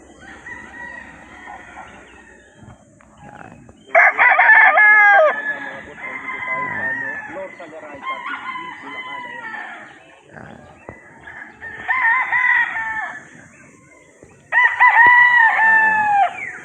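Several Sweater and Boston gamefowl roosters crow loudly and nearby on a gamefarm, in repeated long calls with clucking and quieter stretches between them.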